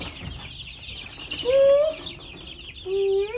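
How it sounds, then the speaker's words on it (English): Chickens cluck and call up close, two drawn-out tonal squawks standing above a low background of farmyard murmuring, with a brief spoken word at the start. "Oh, chickies, y'all come back this way. Chickies."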